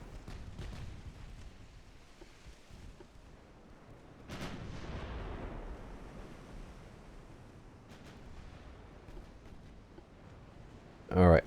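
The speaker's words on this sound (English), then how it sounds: "What just hit you? Battleship gun." Heavy battleship guns fire in an early-1900s naval battle in Ultimate Admiral Dreadnoughts, with a deep booming salvo that rolls into a long rumble over a constant sea-like wash, then a few more distant thuds.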